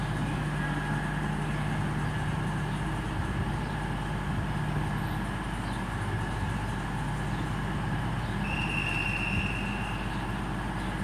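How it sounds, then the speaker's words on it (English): A Class 450 electric multiple unit that has come up from Weymouth sits at Bournemouth station, giving off a steady, moderately loud rumble and hum with a faint high whine that holds through the whole stretch, no voices. "Another Class 450 unit that's come up from Weymouth."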